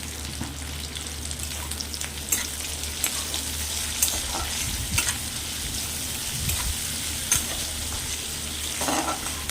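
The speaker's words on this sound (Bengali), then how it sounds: "ভালো করে পেঁয়াজগুলোকে আমি একটু ভেজে নেব" Onions salted and fried until brown in a pan, a continuous loud sizzle broken by occasional stirring scrapes, with no talking.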